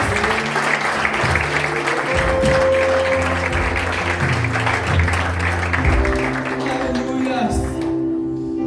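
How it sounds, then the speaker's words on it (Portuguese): A church congregation applauds the Lord during a service, steady clapping running beneath sustained music and voices, with the applause thinning out toward the end. "Vamos aplaudir ao Senhor"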